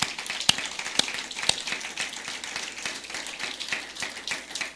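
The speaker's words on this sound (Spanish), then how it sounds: "Vamos a darle un aplauso fuerte al Señor." A church congregation applauds during a sermon, steady dense clapping with a few sharper claps standing out, fairly close and with no talking over it.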